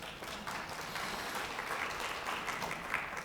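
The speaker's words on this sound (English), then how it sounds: "I want you to give yourselves a round of applause" School principals and vice principals at a brunch applaud together, a faint, distant wash of steady clapping that continues evenly throughout.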